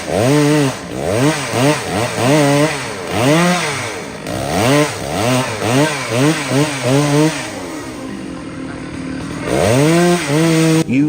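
A Stihl MS881 chainsaw cutting into a large tamarind tree in Indonesia, loud and close, revving up and down in repeated surges as it bites the wood, then settling to a steady idle before revving again.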